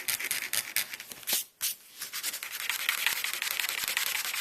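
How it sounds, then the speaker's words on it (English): Paint is scraped off in layers to reveal the colours beneath, giving a close, steady abrasive rasping that runs almost continuously, with a short pause in the middle before the scraping resumes. "This is to scrape away bits of the top layers to reveal what's underneath."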